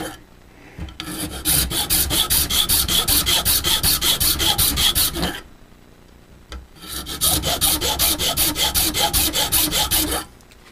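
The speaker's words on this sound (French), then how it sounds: "faut limer par contre, pas meuler" A hand file scrapes a bakelite gasket for a 1/5-scale RC engine in two long bursts of fast, even rasping strokes, loud and close, with a short pause between them.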